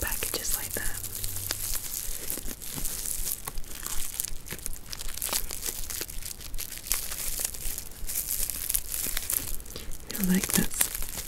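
A makeup packaging pouch from a Glossybox advent calendar is crinkled and handled close up, with soft rustling and crackling bursts through the passage, alongside quiet whispering.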